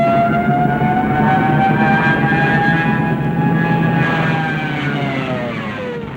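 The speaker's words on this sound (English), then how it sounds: "There's also this terrifying siren noise." A dive bomber's loud, continuous wailing siren with a rising and falling pitch over a roaring engine drone, slowly fading toward the end.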